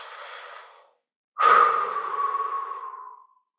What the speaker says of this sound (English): I want you to keep breathing deeply here.